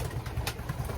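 A racing pigeon, a dark cock, coos softly in short low pulses over a steady background hum.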